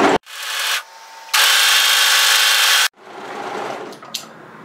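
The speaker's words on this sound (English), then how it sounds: "So place those shoulders right sides together and just overlock that seam" An overlocker running fast across the shoulder seam of a reversible sweater, a loud steady buzzing burst that stops abruptly, then a quieter stretch of fabric handling with a small click near the end.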